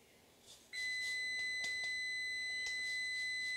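An electronic kitchen timer goes off during catfish baking in a kitchen, sounding as a steady, sustained tone that starts abruptly, with a few clicks and clatters around it and no talking.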